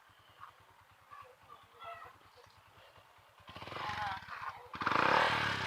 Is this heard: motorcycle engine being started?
yes